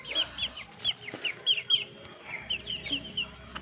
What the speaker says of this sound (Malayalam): ഇതാണ് ഞങ്ങളുടെ വേറെ വെള്ളക്കോഴി.